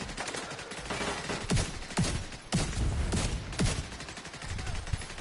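Sustained automatic gunfire from a machine gunner boss in The Division 2, played on PS5, with a dense rattle of shots and several sharper bursts standing out over continuous combat noise.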